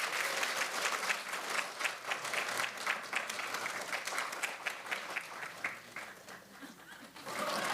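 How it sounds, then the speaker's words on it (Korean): An audience applauds at a Korean political party ceremony welcoming a new recruit, a steady wash of clapping from many hands that holds for several seconds, moderately loud and close, with faint voices mixed in. "박수 부탁드립니다."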